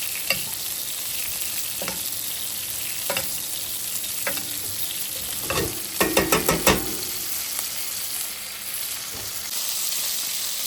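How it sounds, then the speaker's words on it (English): Beef tenderloin steaks sizzle steadily in a pan while being basted with rosemary, with a continuous hiss punctuated by a rapid burst of spoon taps and scrapes against the pan midway. "You just baste it over and over again so all those flavors are into the steak."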